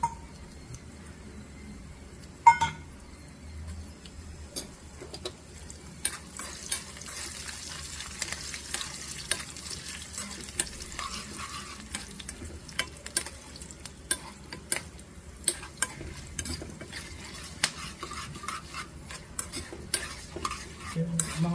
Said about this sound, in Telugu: ఇప్పుడు నేను కరివేపాకు వేసుకున్నాను